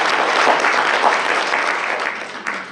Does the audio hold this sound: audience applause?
yes